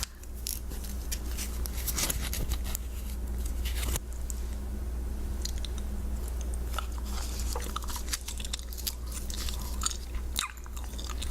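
Chewing gum worked close to the mic in a soft-spoken ASMR session, continuous moist smacking and clicking mouth sounds over a steady low hum.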